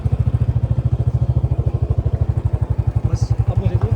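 A motorcycle rides along a mountain road in Uttarakhand, its engine thumping in a fast, steady pulse close to the mic, with rushing wind noise above.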